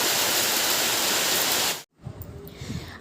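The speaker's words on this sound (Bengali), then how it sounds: "এখান থেকে কল কল করে জল আসছে" Rainwater gushing and flowing outdoors beside a clay stove, a loud steady rushing wash that cuts off abruptly, followed by quieter trickling and patter.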